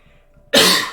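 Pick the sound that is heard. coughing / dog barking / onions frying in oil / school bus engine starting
coughing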